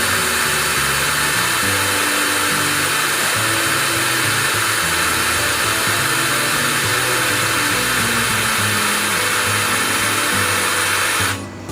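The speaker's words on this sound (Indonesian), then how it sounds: "Kita coba di percepatan nomor 1 terlebih dahulu di mode drilling." A Doliz BD637 cordless brushless drill runs at no load in speed 1 drilling mode, whining loud, close and steady for about eleven seconds before stopping abruptly.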